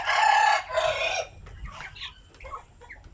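A rooster crows loudly up close, followed by softer clucking and short calls from Basilan chickens nearby.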